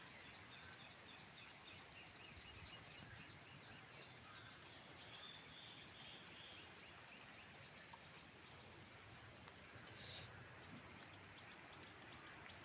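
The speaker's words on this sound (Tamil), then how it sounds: "மழை பெஞ்சிட்டு தான் இருக்குது." Steady, faint rain falls as a constant hiss, with distant birds chirping in the background.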